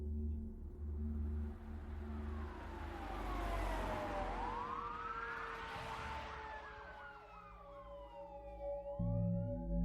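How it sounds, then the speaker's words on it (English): Police siren wailing in rising and falling sweeps, growing louder as it nears then shifting, with a second siren tone overlapping and a low engine rumble beneath. "he heard sirens approaching through the woods"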